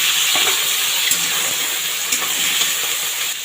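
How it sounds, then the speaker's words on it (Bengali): Prawns fry in oil in a pan with whole cumin, making a loud, dense, steady hiss with a few soft taps from the utensil, close and without voices. "চিংড়ি মাছটা প্রথমে ভেজে নিচ্ছি অল্প"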